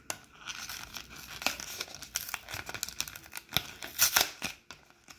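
Foil wrappers of Animal Crossing amiibo card packs, Series 5, being torn and crinkled open in a run of close, irregular rustles, rips and crackles with no talking.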